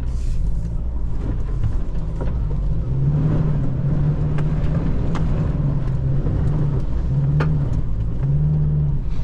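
A Toyota HiLux 48V hybrid pickup pushes through half-dried boggy mud around a tree, its engine droning steadily and loudly close by, with a sustained low rumble and occasional revving swells throughout.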